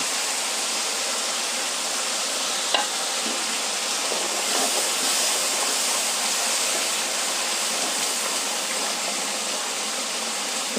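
Tomatoes and spinach sautéing in a pan for palak keerai rice, a soft continuous hiss of steam and sizzle held at an even level, with one small clink early on and no talking.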